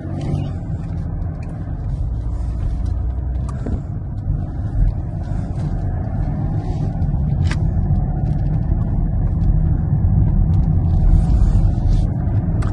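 A BMW X5 SUV accelerates while driving, its engine a continuous low rumble heard from inside that slowly swells in strength, with road and wind noise mixed in and nobody speaking.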